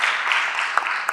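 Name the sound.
applause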